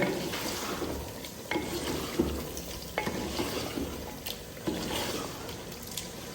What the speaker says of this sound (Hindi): अब हम अपना चम्मच चलाएंगे